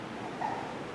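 A police dog puppy in a meeting room gives a single brief, faint yip partway through, set against quiet room ambience.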